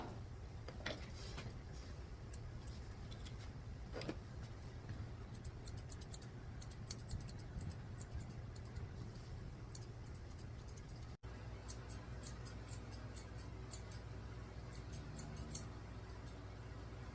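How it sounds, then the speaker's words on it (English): Curved scissors snip steadily at a Shih tzu's coat during a summer trim, giving a run of quiet, crisp cuts over a low background hum, with no talking. "And I'm using my curved scissors to round it off."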